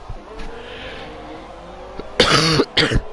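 Two sharp coughs in quick succession, close and fairly loud, after a stretch of quiet room noise.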